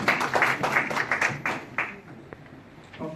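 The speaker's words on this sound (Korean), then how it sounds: "박수를 받겠습니다" Applause from attendees at a church national policy meeting, a dense run of hand claps that gradually thins out and fades into scattered claps and room noise.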